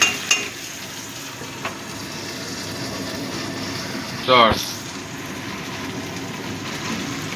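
Tomato is stirred into frying onions in a pan for a mutton keema curry, a steady low sizzle running throughout with faint utensil scrapes and one brief louder clatter of the spoon against the pan midway.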